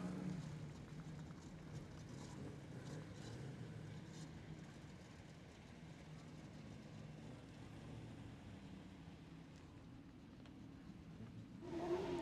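A speedway car at Kingaroy Speedway in an AMCA Nationals Queensland title meeting runs a steady engine drone at middling distance while it completes a lap of honour, then rises louder near the end.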